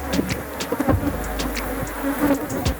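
Africanized honey bees at a Trinidad apiary hum in a dense, continuous buzz, with single bees passing close to the microphone now and then.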